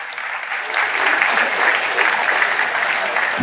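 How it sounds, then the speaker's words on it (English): Audience applause for a woman honoured at the SAMVAD 2023 event, a dense, steady wash of many hands clapping together for the whole stretch, loud and close with no voices over it. "give a big hand of applause to the ma'am"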